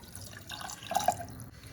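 Water trickles and splashes softly into a pressure cooker pot, a quiet pour with a couple of brief louder splashes, no voices.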